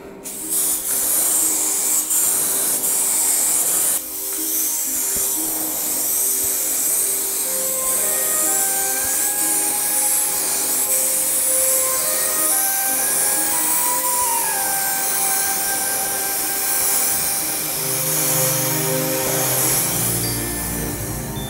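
Spray can hissing Night Glow glow-in-the-dark paint onto an MDF plate, a loud continuous hiss with a short break near the start, close and alone.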